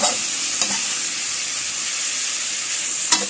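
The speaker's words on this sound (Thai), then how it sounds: "ผัดหน่อไม้เดี๋ยวสักครู่เราก็จะใส่ไข่ลงไปนะคะ" Boiled bamboo shoots with soy sauce and sugar stir-fry in a pan, a loud, close, continuous sizzle with a couple of brief scraping stirs and no talking.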